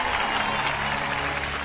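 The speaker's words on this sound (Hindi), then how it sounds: "ताली बजाओ ताली।" A crowd claps steadily in a scene from the Hindi film KGF Chapter 2, a dense, loud wash of applause with a faint murmur beneath, continuous for the whole brief moment.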